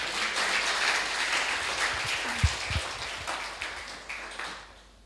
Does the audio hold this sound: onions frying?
no